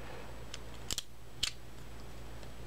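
A GI Joe 2003 Advanced Weapons Tester toy gun mechanism being pulled back and cocked, giving two short, sharp plastic clicks close up, with a faint tick before them and quiet room hiss in between.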